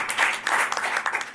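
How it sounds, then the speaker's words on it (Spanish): Brief burst of audience applause at a neighborhood community meeting, a short spell of scattered hand claps from a small group, uneven and fading quickly. "aplauso, por favor."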